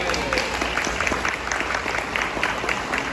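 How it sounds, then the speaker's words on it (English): Audience applause for Wendy at a town hall listening session, steady dense clapping throughout with a faint murmur of voices underneath. "everybody give a round of applause to Wendy."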